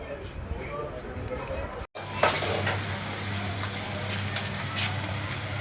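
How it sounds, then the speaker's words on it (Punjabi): A tadka for a vegetable curry with bitter gourd and capsicum hits hot oil after a brief cut, bursting into loud, continuous close sizzling and spattering while a voice speaks faintly over it. "ਮੰਮੀ ਜੀ ਤੜਕਾ ਲਾਉਂਦੇ ਆ ਸਬਜ਼ੀ ਨੂੰ"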